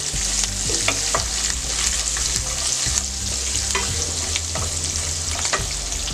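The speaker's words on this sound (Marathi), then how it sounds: "आलं, लसूण, कढीपत्ता, सगळं चांगलं फ्राय करून घेऊया" Ginger, garlic and curry leaves fry steadily in hot oil, a continuous bright sizzle broken by repeated scraping strokes of a spoon against the pan, close and loud, with no voices.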